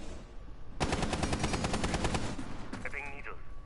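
A rapid, loud burst of automatic gunfire rattles through a video game esports match for about two seconds. A short pause follows, then more shots under faint commentary.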